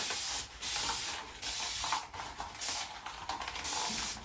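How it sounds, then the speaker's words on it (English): Spray bottle misting water onto acrylic paint on canvas: several short hissing sprays in quick succession, close and soft, with no talking. "I'm just gonna wet my acrylic a little bit, just a little bit."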